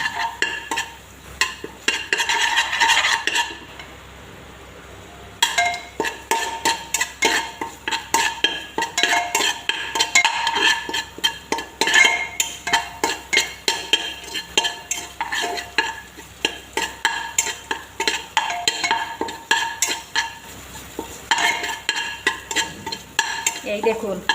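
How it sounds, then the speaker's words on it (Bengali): Spice masala fries in a pan for paneer pulao while a utensil scrapes and stirs in fast repeated strokes over a soft sizzle, close and loud, with a short pause early on. "মশলাটা ভেজে নেব প্রথমে।"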